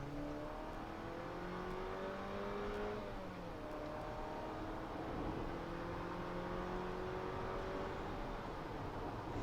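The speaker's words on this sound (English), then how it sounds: "All right, flooring it." A 2022 Jeep Compass Latitude 4x4 with a 177-horsepower engine and 9-speed transmission accelerates at full throttle, the engine note rising steadily through a shift and climbing again, heard from inside the cabin at moderate level.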